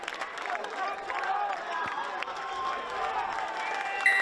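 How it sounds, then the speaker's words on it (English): Crowd cheering and shouting at a school rugby match after the first try, a sustained, steady roar of many voices with a commentator talking over it. "And the crowd has rightly so erupted."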